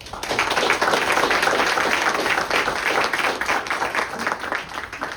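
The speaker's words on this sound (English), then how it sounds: "Please give all of them a round of applause." The audience at Ohio's Pardon Picnic, an outdoor speech event, breaks into a round of applause, a full burst of many hands clapping that holds steady for a few seconds and then gradually tapers off.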